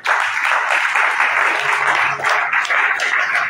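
A church congregation applauds the Lord during a French-language sermon, a dense, steady wash of many hands clapping that holds loud and unbroken from start to finish, with no voices standing out.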